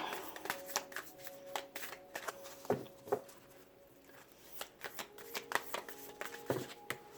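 Tarot cards shuffled and flicked by hand in a string of crisp, close riffling snaps and slaps, with a few firmer taps as cards are drawn and laid down, in a quiet room.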